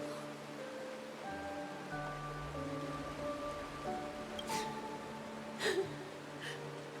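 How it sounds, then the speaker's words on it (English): Steady soft rainfall in the video game Honkai Star Rail, a quiet wash of falling drops beneath sustained musical tones, with a few faint brief accents. "This is the sound of rain."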